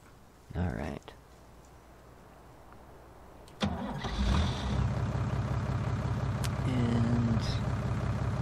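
A tractor engine in Farming Simulator 19 cranks and starts with a sharp click, then settles into a steady, close mid-pitched idle that holds to the end.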